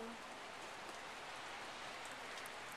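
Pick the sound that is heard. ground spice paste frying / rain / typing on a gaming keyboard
rain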